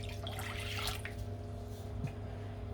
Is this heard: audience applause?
no